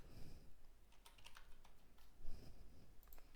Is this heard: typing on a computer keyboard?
yes